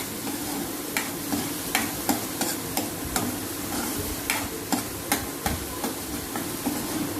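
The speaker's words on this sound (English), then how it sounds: "we add very finely chopped onions and we let it saute to become nice and translucent" Finely chopped onions sauté in a pan with a steady, close sizzle, punctuated by regular clicks of a spoon stirring against the pan, heard without talk.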